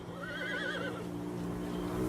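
A horse whinnies on a high mountain route, a loud close neigh with wavering pitch lasting about a second, then steady low background rumble.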